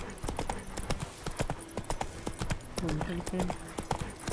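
Roach, the horse in The Witcher 3, clip-clops at a quick gallop with a steady, close rhythm of hoofbeats under game dialogue and someone talking.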